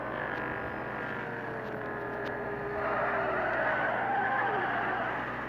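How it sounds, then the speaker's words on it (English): A race car in Real Racing 3 holds a steady engine drone with rising tire squeal as it skids through a wide corner, the whine bending and swelling partway through, continuous and moderately loud. "Oh, skidded way too much"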